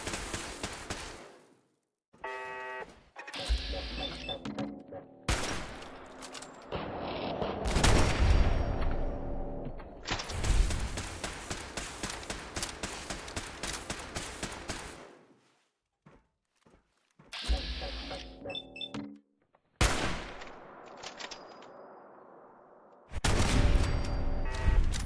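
Robot turrets in Fallout 4 fire repeated bursts of gunfire in several loud volleys separated by short pauses, with clanking impacts and mechanical rattles between shots.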